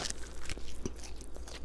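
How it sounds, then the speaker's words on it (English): Crisp crunches of teeth biting into a homemade fried chicken tender, a few quick sharp snaps close to the mic with soft chewing noise between them. "And listen to this crunch."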